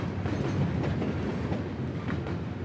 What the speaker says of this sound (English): You can really feel the train moving here.